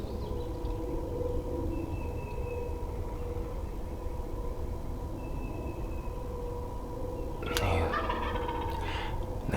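Wild turkeys gobble in an outdoor April hunting setting, the calls distant and faint over a steady low rumble, with a louder burst of sound near the end.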